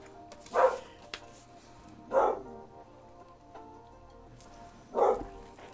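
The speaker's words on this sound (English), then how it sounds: "Maddie, what are we barking at?" Three distinct barks from Maddie, a pet dog indoors, spaced a second or more apart at moderate distance over a quiet room hum.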